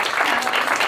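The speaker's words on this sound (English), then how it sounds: "Big round of applause for my" Audience clapping for summit panelists at a panel discussion, a dense, steady burst of applause lasting just under a second.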